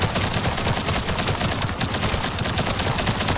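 Rapid, sustained gunfire in the shooter game The First Descendant, a loud dense stream of shots with no letup across the whole stretch.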